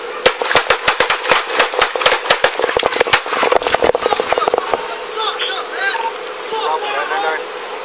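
Police gunfire aimed at an armed man in a car: a rapid volley of loud, sharp gunshots for about four seconds, close by, then stopping as voices and background noise carry on.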